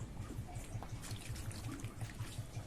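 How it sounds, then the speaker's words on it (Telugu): Thick tamarind water is poured over pieces of fish for a curry, making a soft, steady trickle that carries on quietly at close range with no talk. "చిక్కటి పులుసు తీసుకొని ఈ విధంగా పోసుకున్నానండి"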